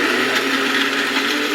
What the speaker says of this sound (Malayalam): ഇപ്പൊ തന്നെ ചിക്കൻ ഇടാനുള്ള തേങ്ങ പാലിന് വേണ്ടിയിട്ട് അരച്ചെടുക്കാം